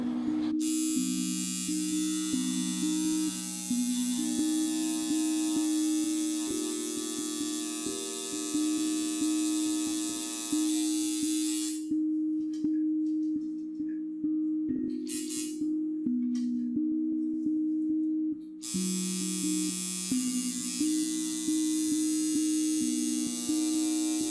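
A tattoo machine buzzing steadily during solid fill tattooing, a close, loud electric hum whose pitch shifts slightly as it works, with a brief pause in the middle and no talk.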